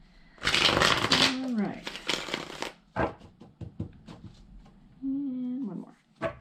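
Tarot cards being shuffled by hand: loud, dense riffling bursts, then a series of shorter crisp snaps and taps as the deck is squared, with a voice speaking briefly between them.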